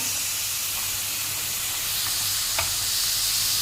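A spice paste of cumin powder, coriander powder and chopped ginger fries in a pan for chital fish muitha, giving a dense, even sizzle and steamy hiss with a soft stir or two, no voices.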